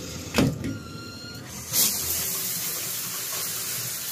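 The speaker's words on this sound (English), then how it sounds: "Very nice shower here" A motel room shower runs with a steady hiss of spraying water, with a couple of brief knocks and squeaks from the fixture near the start, close and without talk.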